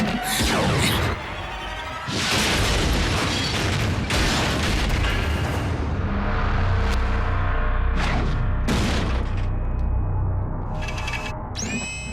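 Cartoon explosions blowing up a Transformers robot, a series of heavy booms and blasts with crackling debris and metallic whooshes, loud and continuous with sharp bursts near the end.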